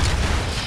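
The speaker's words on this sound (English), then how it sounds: "they're calling in airstrikes on me" An airstrike explosion in the video game Broforce: a loud, dense, rumbling blast that fills the short moment without pause.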